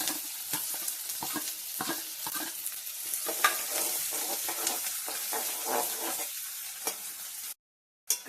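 Onion frying in a pan with cumin seeds and garam masala: a steady hot sizzle with scraping stir strokes throughout, close and continuous, then a brief cut to silence near the end.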